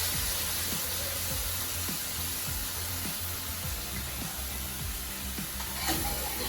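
Jamaican pork belly fries in a pan with soy sauce and vinegar, giving a steady close sizzle throughout with soft, repeated stirring scrapes underneath.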